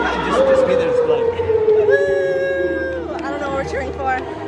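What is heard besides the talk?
crowd cheering at a gig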